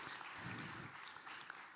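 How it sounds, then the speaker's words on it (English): Audience applause at a live tech conference stage in Riga, a dense continuous wash of clapping heard from within the crowd, steady for the whole stretch. "So can you clap?"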